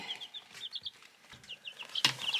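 Chicks in a coop peeping in high, thin chirps, several overlapping in a quick scattered run, quiet and fairly close, with one louder rustle or knock near the end.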